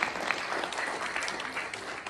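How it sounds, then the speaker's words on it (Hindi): An audience at a stage event in Bhopal claps steadily, a dense, continuous patter of many hands from a mid-distance crowd, with no voices over it. "हम सब मिलकर जोरदार तालियों से इस बच्चे का सम्मान करें।"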